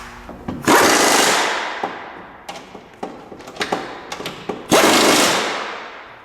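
Impact or power tool running down the suspension nuts on a 2007 Subaru Outback: loud, close bursts of buzzing rattle, two long ones framing a series of short, stuttering hits between them, with no talk.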